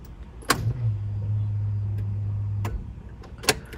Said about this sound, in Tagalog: humming sound ng fuel pump yun